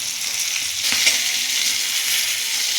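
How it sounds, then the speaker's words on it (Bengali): Pieces of pointed gourd (potol) fry lightly in a pan, giving a steady close sizzle with a brief scrape of stirring partway through and no voices. "পটলটা না আমি বেশি ভাজবো না, অল্প ভাজবো"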